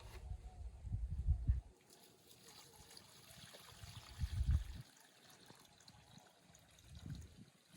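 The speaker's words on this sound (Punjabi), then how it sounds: "ਗੁਰਫਤ ਦੇ ਬੂਟਿਆਂ 'ਚ ਪਾਣੀ ਪਾਉਂਦਾ ਹੈ" Water poured from a container onto potted plants outdoors, a soft close trickle and splash coming in three short bursts with quiet gaps between.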